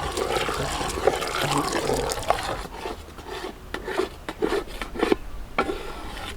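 A spoon works thick jackfruit halwa around a pan, producing steady close scraping and sticky rubbing strokes with irregular wet slaps, continuous and fairly loud, with no voices.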